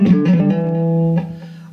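Electric guitar plays a short descending legato phrase of hammer-ons with no picking, smooth distorted notes stepping downward and then sustaining one low note, close and alone.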